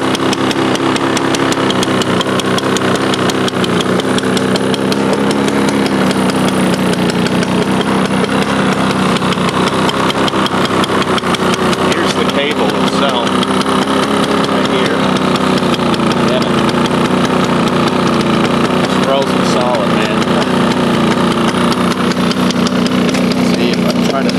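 A Toro 21-inch Proline lawn mower with a Suzuki engine idles smoothly and continuously at close range, its steady rumble unbroken throughout.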